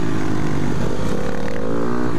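Engine of a 250 motorcycle in a racing video game, a loud, steady buzzing drone held at high revs throughout, close and continuous with no talking.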